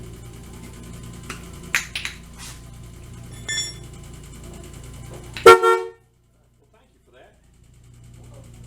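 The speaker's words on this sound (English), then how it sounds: "Well, I didn't know how sensitive the horn was." Horn on a 1983 El Camino under repair in a garage giving a loud short honk after some clicks and taps, followed by near silence, with people talking around it.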